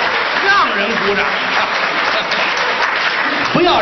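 Audience applause fills a crosstalk show, a dense, continuous clapping wash held at steady volume for several seconds, with voices talking over it.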